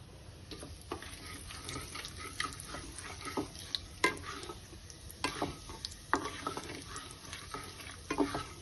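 Urad dal frying in a pan, heard as a soft, quiet sizzle with frequent scraping and tapping from stirring, close by, without any talking.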